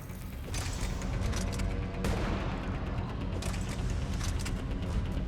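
Dense, continuous gunfire bursts with booms and mechanical clatter from the video game Mass Effect 3 on Eden Prime, loud and sustained throughout with no speech.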